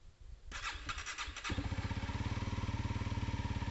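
A Honda CRF300L motorcycle with a freshly filled fuel tank cranks briefly in a few quick bursts, then fires up and settles into a loud, steady, rapidly pulsing idle close by.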